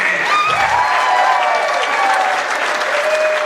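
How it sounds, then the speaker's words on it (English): A crowd at a drivers' congratulations ceremony applauds loudly and continuously, a dense wash of clapping that holds steady throughout with no voices over it. "was going to ask you to hold your applause, but thank you very much"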